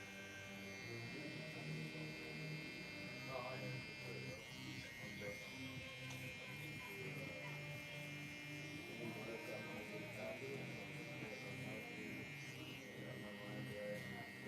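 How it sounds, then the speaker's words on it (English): An Exceed hair trimmer buzzes steadily in a barber shop while cutting a taper guideline, its thin electric whine running throughout beneath background chatter and music. "I have my Exceed trimmer, and we're gonna put a little bit of a guideline in."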